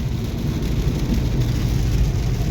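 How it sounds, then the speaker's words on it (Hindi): Heavy rain pouring down outdoors on the way to a temple, a dense, loud, unbroken roar with low rumbling underneath and no voices. "और जब पहुंचने वाले हैं तो यहाँ पे तेज बारिश शुरू हो गई।"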